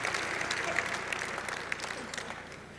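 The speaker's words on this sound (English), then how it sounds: "Give a big round of applause" Quiet, distant audience applause at a chamber of commerce gala, a roomful of hands clapping steadily and fading slightly toward the end.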